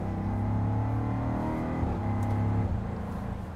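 Supercharged 5-liter V8 in a 2023 Land Rover Defender 90 downshifting, a steady loud engine drone whose pitch drops and shifts partway through, then eases off, with no talking.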